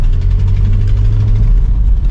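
Tuned 500 hp Volkswagen Passat engine running steadily with a deep, loud, continuous rumble and a constant low throb, close by and alone with no talk.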